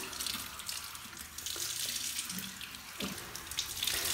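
Tap water runs steadily into a sink while hair is rinsed, a continuous close hiss with small splashes and shifts in the flow.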